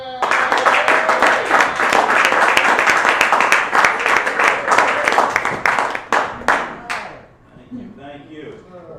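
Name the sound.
applause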